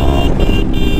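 A motorcycle ridden fast on a hill road in Himachal Pradesh near Rampur Bushahr gives a loud, close, steady engine roar with wind rush for a brief second.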